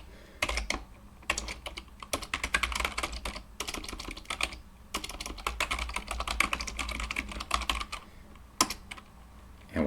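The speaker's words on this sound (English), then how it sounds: "we'll type in our password for the last time" Rapid bursts of keystrokes on a computer keyboard while a password is entered for a remote SSH login, clicking in several quick runs separated by short pauses, close and clear.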